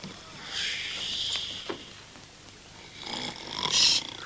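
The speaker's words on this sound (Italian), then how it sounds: "Russa." A sleeping man snoring in an old Italian comedy film, with slow, rasping breaths under a hissy VHS soundtrack and faint background noise.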